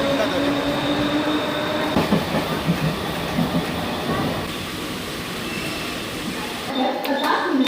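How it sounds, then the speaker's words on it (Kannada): Trains at a busy Mumbai railway station, with continuous rumbling carriages and clickety-clack of wheels, loud and close, and voices faintly underneath. "ಸೊ ಫೈನಲಿ ನಾವು ರೈಲ್ವೆ ಸ್ಟೇಷನ್ಗೆ ಬಂದ್ವಿ"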